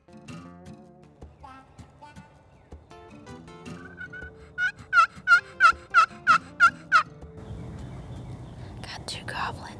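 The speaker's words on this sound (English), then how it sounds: "Got two gobbling." Two wild turkeys gobble in the woods during a hunt, a rapid burst of loud rattling gobbles in the middle of the clip, with soft whispered talk before and after.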